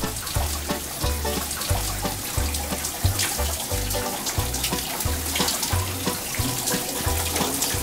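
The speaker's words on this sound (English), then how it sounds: "I need a shower." Shower water runs in a steady, loud, hissing spray, with rhythmic low thumps underneath.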